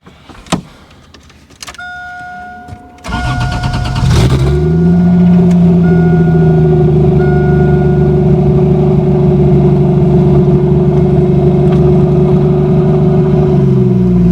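A 1987 Toyota Supra with a swapped 2JZ-GE engine starts up after a few clunks and clicks, then settles into a loud, steady close-up drone with a slight rise in revs as it pulls away.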